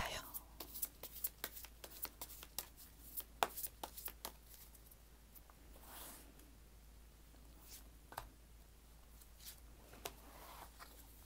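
Tarot cards riffled, snapped and laid down in a run of sharp, close crackling bursts, thinning out toward the end with a few scattered flicks under a quiet room.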